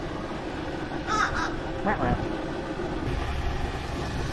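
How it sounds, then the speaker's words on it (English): Crows feeding on fish scraps near a Sanibel Island, Florida fishing spot give a few short, harsh caws in two quick bursts. The calls sit over a steady outdoor wash of wind and water. "We have our bird friends that are enjoying the scraps."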